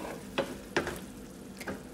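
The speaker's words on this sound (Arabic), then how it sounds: "يلا نضيف الحين البيديان، وبس نقلب البيديان بالصوص" Eggplant being stirred into a tomato-paste sauce in a pan gives a soft, low sizzle with three distinct scraping stirs spaced apart, with no one talking.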